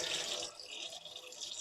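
Lukewarm water is flicked over a cereal bowl while shaving with Floris Cefiro, a brief burst of splashing and trickling that stays close and fairly soft, then tapers into lighter dribbles.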